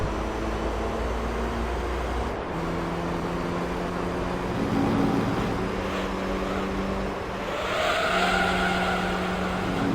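Race car engine droning steadily in Gran Turismo 3: A-Spec, with shifting pitch as gears change and tire squeal rising toward the end, loud and continuous with no talking.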